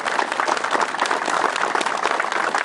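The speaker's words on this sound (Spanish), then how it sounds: "Por eso yo le quiero que le demos un fuerte aplauso a nuestra diputada," A crowd at a public event claps for a deputy in a dense, steady burst of applause, loud and continuous throughout.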